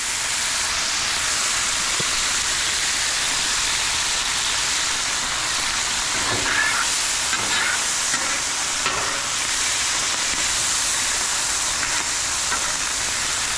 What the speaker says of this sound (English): So I'm going to go ahead and steam it just a little bit